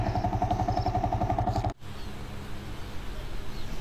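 A motorcycle engine idles with a rapid, even putter close by, then cuts out abruptly as the bike is parked, leaving faint outdoor ambience in a rural valley area.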